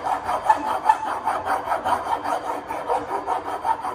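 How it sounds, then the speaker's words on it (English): A metal file is drawn back and forth across material at an angle, cross filing in a steady rasping rhythm of close, moderately loud strokes. "So cross filing, my file is at an angle and I'm just going back and forwards."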